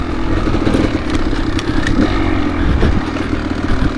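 A Kawasaki KX dirt bike rides a mountain single-track trail at night, its engine a steady, close, loud drone with mild revving and some clattering throughout, with no talk over it.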